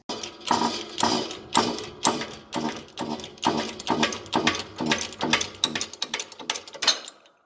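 A bearing race is pressed out of a heated pinion case from a 1956 Harley-Davidson FLH. A fast, regular series of loud, close metallic ratcheting clanks runs for several seconds and then stops, with no talking.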